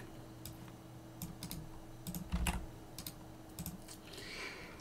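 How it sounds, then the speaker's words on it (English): Quiet, scattered keystrokes on a computer keyboard as a command is typed into a Linux terminal, with irregular clusters of taps over a low steady hum. "in the terminal window, you need to type the following"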